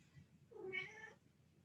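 A single soft, drawn-out meow from a cat nearby in a quiet room during a restorative yoga session.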